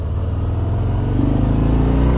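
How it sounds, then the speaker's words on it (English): Engine of a 2019 Harley-Davidson FXDR 114 motorcycle running on a ride in Las Vegas, a loud, steady low rumble with a slight rise in revs, close and continuous with no talk. "So the engine note in this thing is awesome!"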